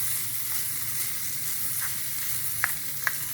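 Tomato fries in oil for a mutton dish, a loud, constant sizzle and hiss, with a few sharp clinks of a spoon stirring against the pan near the end.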